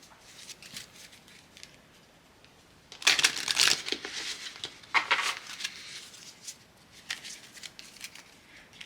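Tarot cards being shuffled and drawn by hand at close range, with quiet bursts of riffling and sliding cards that are loudest midway and otherwise soft card handling, no talking.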